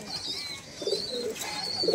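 Madrasi pigeons coo softly inside a loft. A few short, low coos rise over a faint hiss and light rustling, fairly close.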